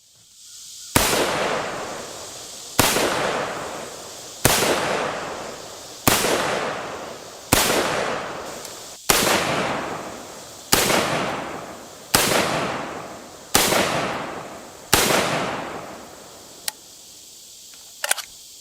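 An HK MR556 short-barreled rifle, a civilian HK416 with a piston system, fires about ten loud, evenly spaced shots roughly every one and a half seconds, each crack trailing off in a reverberant decay, followed by a faint click near the end.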